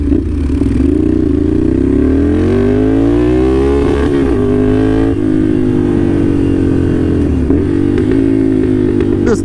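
A Ducati Scrambler with a loud aftermarket exhaust, baffle removed, idles and revs close by, its deep, raspy engine note rising and falling steadily throughout.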